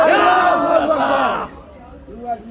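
Large crowd at a religious conference in New Basti, Kamarhati, Kolkata roaring a unified chant in answer to a takbir call, loud and sustained for over a second before fading into quieter murmurs and a faint voice.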